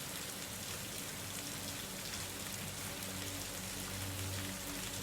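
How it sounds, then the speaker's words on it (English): Rain falls steadily in a constant hiss of drops on surfaces, soft and evenly spread with a faint low rumble beneath, no voices. "The rhythmic pulse of the rain."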